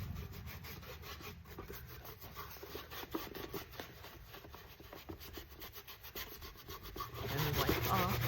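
Aging wax rubbed by hand over a thrifted home decor piece, a steady scratchy rubbing with repeated strokes, close and fairly quiet, with no talking.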